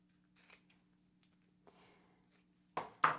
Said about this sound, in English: you're going to cut it off your parchment paper and you want to leave a little bit around